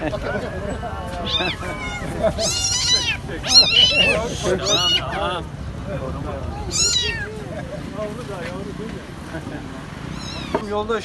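A kitten trapped inside a car's engine gives repeated high, plaintive meows, close and clear, while several people talk over and between the cries.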